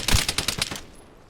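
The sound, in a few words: SVU rifle shots in video game Vigor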